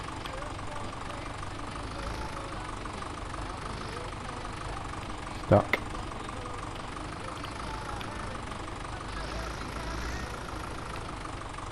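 A tractor engine in Farming Simulator 17 idles in a steady, even drone the whole time, with a brief clunk near the middle and a player saying a word over it.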